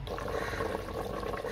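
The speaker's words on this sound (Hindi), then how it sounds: "अब इसमें हमने पानी शामिल करना है" Water poured into a pot of chicken and bottle gourd curry, a continuous splashing, gurgling stream heard close up and steady throughout.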